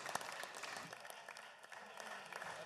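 Faint, distant applause in the State House chamber for the visiting May River Sharks, a thin steady patter of clapping from the gallery that runs throughout.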